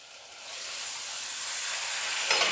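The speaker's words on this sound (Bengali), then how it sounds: "মশলাগুলো ভাজা হয়ে গেছে, এবার আমি মাপ করে জল দেবো" Water is poured into frying spice masala in a pan, a rising hissing, steamy rush that builds and holds close and loud, ending with a sharper splash.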